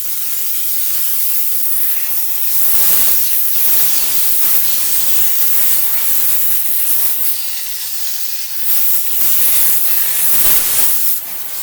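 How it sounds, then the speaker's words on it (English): A Chief Steamer 125 PSI steam cleaner blasts a car door jamb with a loud, close, continuous broadband hiss that surges and eases in pulses as the nozzle moves, with no voices. "the top weather stripping is what we can get with the steam"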